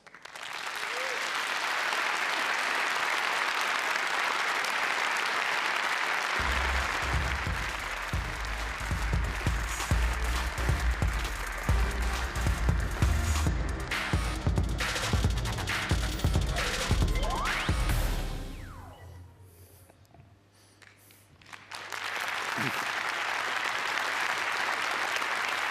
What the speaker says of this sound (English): please welcome Uri Levine with a great round of applause